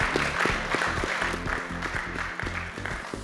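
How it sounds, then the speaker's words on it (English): A studio audience claps to welcome a discussion panel, producing sustained, dense applause at close range, with a rhythmic musical beat running underneath. "Big round of applause,"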